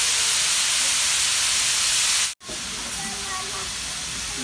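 A pot of water roils with a loud, steady hiss that cuts out for a moment, then continues at a slightly lower level.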